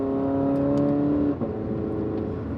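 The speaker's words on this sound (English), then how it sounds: "When the transmission is working, it should shift something like this." Toyota 86 automatic transmission heard from inside the cabin while driving, a steady engine drone that drops in pitch as the gearbox shifts up mid-way, then settles into a lower hum.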